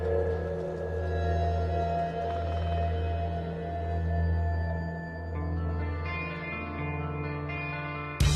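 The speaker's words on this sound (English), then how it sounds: "when the wind blows, even lightly, they create eerie sounding hums, creaks, whistles, and tones" Wind blowing through tall organ-pipe sculptures in a Seattle park produces sustained, eerie layered hums and tones that swell and fade slowly, steady and unbroken, with no voices.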